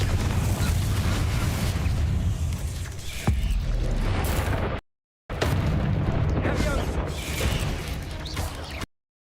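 Confringo spell explosions in Hogwarts Legacy, with dense rumbling blasts and bursts filling the soundscape, briefly cutting out before resuming, amid game combat noise and some voice.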